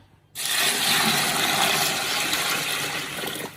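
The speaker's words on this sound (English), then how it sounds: "So I proceed by adding water" Water gushes steadily into a bucket of carp bait particles, starting abruptly and continuing as a close, even rushing pour.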